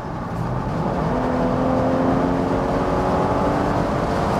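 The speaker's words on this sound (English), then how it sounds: "you have always enough power also with this 4-cylinder engine" A Mercedes E-Class Convertible with a 4-cylinder engine accelerates while overtaking, its steady engine drone and whirring road noise building evenly, loud and continuous from inside the car.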